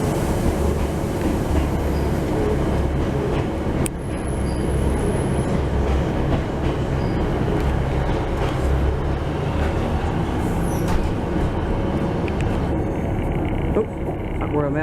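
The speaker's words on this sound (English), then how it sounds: "Oh, that Royal Mail train appeared out of nowhere." Royal Mail train passing through a station, a loud continuous rumble of wheels and rail noise with occasional squeals, close and steady throughout, with people talking nearby.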